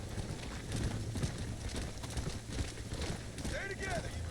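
Hoofbeats of cattle and horses clatter steadily during a herd drive in Red Dead Redemption, a dense, continuous clip-clop under a voice calling out to the animals.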